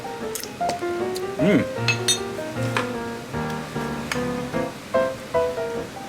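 Clinks of utensils against a bowl while a seafood salad with shrimp, cucumber, octopus, lettuce, tomato and yuzu kosho dressing is tossed, short scattered taps and scrapes close by, with a voice talking over them.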